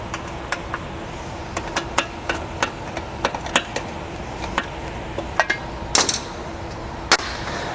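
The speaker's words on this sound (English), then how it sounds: "go ahead and tighten your hose clamps" Sharp metallic clicks and taps from a stubby screwdriver tightening hose clamps while installing a hose on a spring-driven hose reel, arriving in an irregular series at close range over a low steady background.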